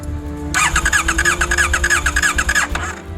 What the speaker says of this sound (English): things were igniting and the engine wanted to start